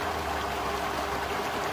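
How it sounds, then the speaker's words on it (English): An XtremepowerUS 24-inch sand filter set to rinse pushes pool water through in a steady, close rushing flow with no pauses. "So it's gonna rinse off all the sand."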